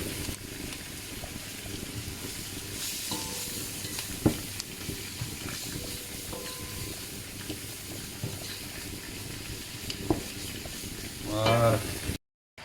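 Onions and spices frying in olive oil in a pan for a spicy oriental chicken dish, a steady broadband sizzle running throughout with occasional clinks and a brief louder burst of spattering near the end.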